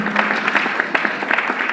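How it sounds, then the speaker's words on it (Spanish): Brief burst of audience applause in a lecture hall honoring the people of Haiti, a steady patter of many hands clapping at moderate loudness for under two seconds. "Un aplauso y fuerza para el pueblo de Haití"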